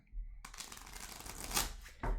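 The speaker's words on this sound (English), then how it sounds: "I think that was a perfect shuffle." Tarot cards riffle close by in a soft, continuous fluttering shuffle, with a brief bridging patter at the end, faint and alone.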